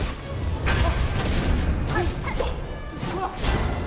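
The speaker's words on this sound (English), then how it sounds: "I forget about the secondary explosion" Crashing blasts and swooshing impacts in Hollow Knight: Silksong combat, several thumping hits with a whooshing secondary burst, moderately loud and busy, with no speech.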